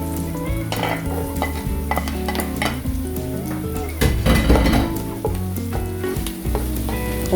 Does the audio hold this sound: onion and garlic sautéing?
yes